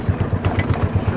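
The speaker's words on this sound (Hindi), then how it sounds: "तो ये है हमारा आज का ऑटो द डिस्को 3 व्हीलर।" A three-wheeler auto rickshaw engine runs close by with a fast, even putter, loud and steady with no talk over it.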